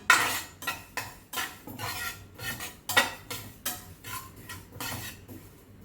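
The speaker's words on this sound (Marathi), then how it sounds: "आता त्यामध्ये टाकायचे तीळ. तीळ पण छान भाजून घ्यायचे." Sesame seeds roast in a pan on low heat, a utensil scraping and stirring them in quick, repeated strokes, close and fairly loud with no talking.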